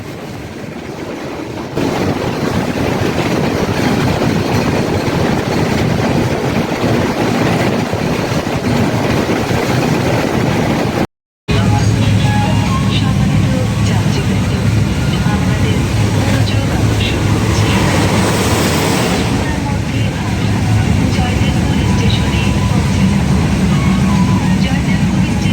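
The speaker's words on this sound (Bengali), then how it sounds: "ট্রেন এখন প্রচুর গতি নিয়ে চলতেছে" Chitra Express intercity train between Khulna and Dhaka running at high speed, a loud steady rumble and rushing roar heard from inside, continuous throughout with one brief cut partway.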